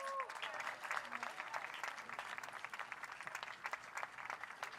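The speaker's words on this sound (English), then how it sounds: "let's give her another round of applause." A crowd at a veterans celebration on Kaua'i gives a Wonder Woman performer another round of applause, with sharp, scattered hand claps at moderate distance, sparser and a bit quieter than a full ovation, sounding steadily throughout.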